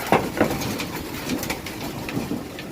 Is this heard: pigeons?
yes